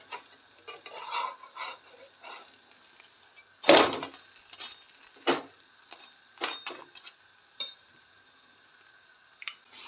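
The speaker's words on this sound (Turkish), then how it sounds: "Tekrardan altını üstüne çevireceğim." Pan-fried leftover dough flatbread sizzles softly in oil and is flipped over, with scattered scrapes and one sharp clatter of utensil against the pan, close and quiet.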